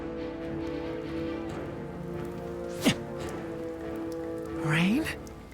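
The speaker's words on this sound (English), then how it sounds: "That's spray from the collision." Water spray thrown up by a collision in Naruto Ultimate Ninja Storm 4 makes a steady rain-like hiss and patter over a soundtrack, with a sharp whooshing hit midway and a rising swoosh near the end.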